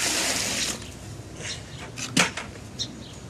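Water is poured into a mix of sand and mortar or Portland cement for a stucco base coat, making a brief rush at the start. A few soft splashes and knocks follow over a quiet background.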